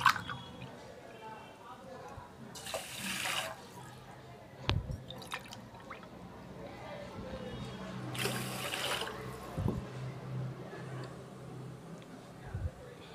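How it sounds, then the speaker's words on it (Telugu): Water is poured over a glass of washed rice for carrot rice, two glasses in all. It comes as two separate splashing rushes a few seconds apart, with quieter drips and kitchen background between them. "దీనికి 2 గ్లాసులు వాటర్ వేసుకోవాలి."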